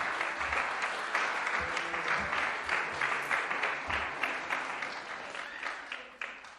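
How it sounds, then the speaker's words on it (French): A church congregation at a weekend fasting and prayer service bursts into sustained, dense applause and cheering that rolls on steadily and fills the room, easing slightly toward the end. "Est-ce qu'on peut acclamer le Seigneur?"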